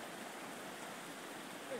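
River water rushing over stones, a steady, broad, faint hiss with no breaks, heard from nearby at low level.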